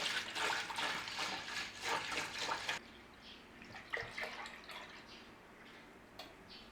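Five litres of milk pour into a pan in a steady, splashing stream for a few seconds, then settle into softer drips and small trickles.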